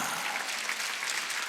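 Church congregation at a Sunday worship service clapping together, a dense, even burst of applause sustained loudly throughout.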